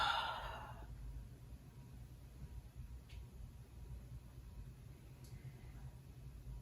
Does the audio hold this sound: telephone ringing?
no